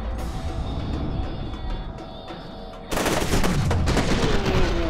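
Video game gunfire: a muffled stretch of rapid shots gives way to a louder, harsher burst of automatic fire with bright cracks and clatter, dense and close.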